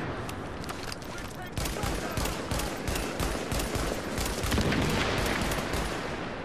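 Rapid, sustained gunfire from The Division's Dark Zone, dense bursts of shots cracking in quick succession throughout, loud and continuous, with a voice talking over the shooting.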